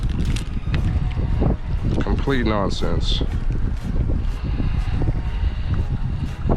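Strong wind blows steadily across the microphone while wade fishing in the bay at Galveston, Texas, a constant loud rumble that continues under a man's speech.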